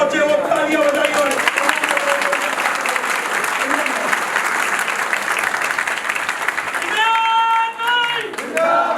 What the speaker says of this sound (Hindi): इमरान प्रताप गढ़ी साहब को तभी मैं बुलाऊंगा जब ये तालियों की गूंज यहां से और उस संगी केजरीवाल के ऑफिस तक पहुंचे, वो तालियां बजाई